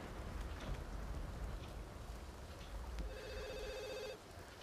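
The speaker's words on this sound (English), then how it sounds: "Answer the phone, dude." A telephone rings in The Sims 2, a repeated electronic ring entering partway through over a steady rain-like hiss of game ambience; no one speaks.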